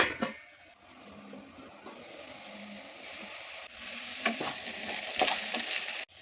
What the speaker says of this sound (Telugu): మంట మీడియం ఫ్లేమ్లో పెట్టి ఫ్రై చేసుకోవాలి